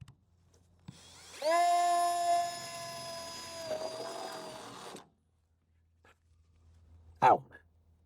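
Small power drill boring holes for an RC off-road car build: a steady high-pitched whine lasting a few seconds that dips as the bit bites, then stops, followed by faint handling clicks.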